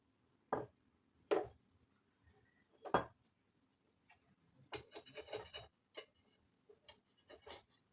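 Naan dough topped with nigella seeds and coriander leaves is pressed and rolled, giving three distinct soft thumps followed by a run of faint rubbing and scraping strokes in a quiet kitchen.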